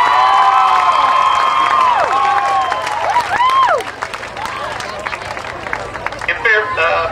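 A crowd at a high school homecoming parade claps and cheers in a busy outdoor scene, with voices and whistles or shouts rising over the applause for several seconds.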